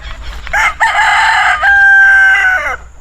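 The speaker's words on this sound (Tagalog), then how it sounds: "May manok doon." A rooster crows loudly and close by, one long drawn-out call that starts with a couple of short clucks and trails off, with no talking.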